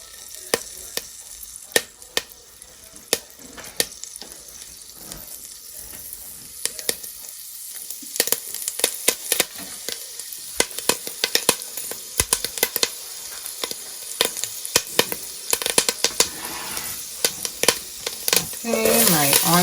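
Onions, garlic, thyme, green seasoning, turmeric and black pepper sizzle and crackle in melted fat in a pan while cooking yellow rice with sausage. The frying starts quietly, then grows into a dense, popping sizzle with sharp spatters close by.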